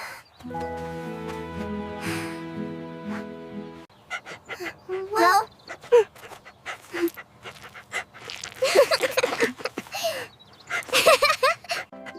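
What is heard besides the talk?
dog whimpering and panting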